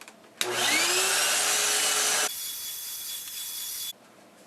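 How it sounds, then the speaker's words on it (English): A vacuum cleaner runs on a carpet, switching on with a rising whine, droning loudly and steadily, then dropping to a lower, thinner tone before cutting off abruptly. "The first step when we spot a carpet is we just vacuum first"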